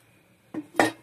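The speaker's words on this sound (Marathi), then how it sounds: "तर आता लगेच येथे कढई पण ठेवणार आहोत।" A metal wok is set down with two quick clanks, close and fairly loud, in an otherwise quiet room.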